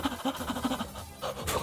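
Rapid, panicked heavy breathing comes as a fast run of short rhythmic pants, close and fairly loud, continuing through the whole stretch.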